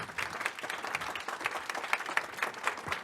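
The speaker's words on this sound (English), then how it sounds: "Can we clap it up for that talk?" Audience applauding at the close of an educational talk on job hunting, a steady patter of many hands clapping at moderate level with no talk over it.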